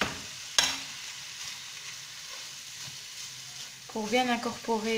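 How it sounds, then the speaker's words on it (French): Ground meat seasoned with cumin, salt, pepper and paprika sizzles in a pan while a fork crumbles it. A sharp clink comes early, then a steady soft frying hiss, and a voice speaks near the end. "Maintenant, on va émietter la viande hachée à l'aide d'une fourchette"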